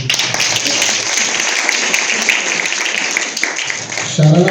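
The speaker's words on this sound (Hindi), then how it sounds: "इस इश्क और इश्क मोहब्बत के लिए दिल से तालियां बजती।" An audience at a poetry gathering in Udaipur claps steadily, a bright, dense patter of many hands that holds level for several seconds, with a voice starting to speak near the end.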